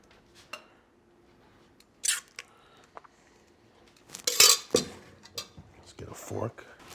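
A plate and fork taken out to serve grilled fish, with a few sharp ceramic clinks and a cluster of metallic clatters, close, amid quieter stretches and brief handling noises.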